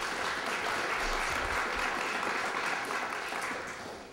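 Audience applause at a primary election debate for a U.S. congressional district seat, a steady dense wash of clapping from a crowd that holds strong and then fades toward the end.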